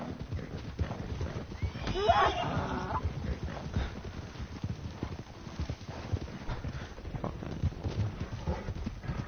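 A horse in Red Dead Redemption II whinnies once early on while its hooves clip-clop at a steady walking rhythm throughout, close and moderately loud.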